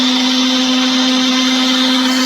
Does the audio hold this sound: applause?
no